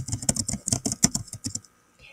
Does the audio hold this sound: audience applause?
no